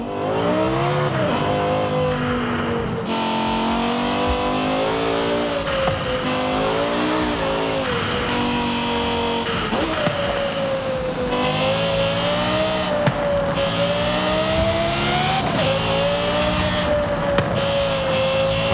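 A fast car in the racing game Forza Horizon 5 revs hard and continuously, its engine note rising and falling through gear changes, with brief tire squeals and no speech over it.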